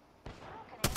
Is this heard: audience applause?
no